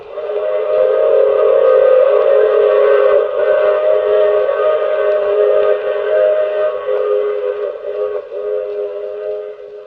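Train sound effect in a 1950 radio drama, a sustained chordal whistle blast over rumbling rail noise, loud and steady for about ten seconds, with no talking.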